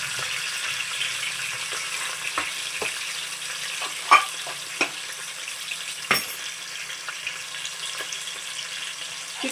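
Onions tossed into hot ghee with cinnamon and cloves for a vegetable biryani base, frying with a continuous sizzle and a few sharp clinks and scrapes against the pan, no voices.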